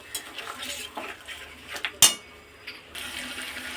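Spice paste and a fish head are stirred in a pan, with soft scraping and shuffling broken by one sharp metallic clink of the utensil against the pan midway.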